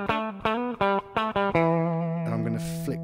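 An HSS Stratocaster electric guitar on its bridge humbucker through a distortion effect, loud and close, playing a run of short staccato chords or notes before a longer held, ringing chord at the end.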